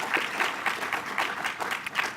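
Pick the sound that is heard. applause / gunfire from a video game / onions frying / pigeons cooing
applause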